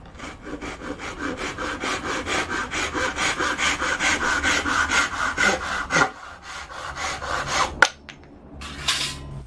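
A hand saw cuts through a small piece of wood for a homemade fire-blowing pipe body, with steady rhythmic back-and-forth rasping strokes, close and clear, ending in a few scrapes and a brief final rub.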